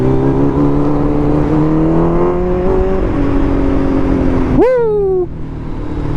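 A 1000 cc motorcycle accelerating hard, its engine note climbing through the gears as a loud close whine, then a sharp upward rev and a falling pitch before the sound settles, with no talking.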